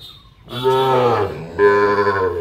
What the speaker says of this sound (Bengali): তাহলে জাতে শাইওয়াল, নিখুঁত গরু।